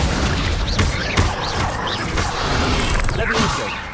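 Fiery spell blasts crackle and boom in Hogwarts Legacy, several bursts and whooshes in quick succession at close, loud level amid heavy game action.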